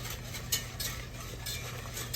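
A spoon works garlic into a bubbling creamy spaghetti sauce in a pot, with soft scraping and swishing strokes and a low simmer hum, close and steady with no talking.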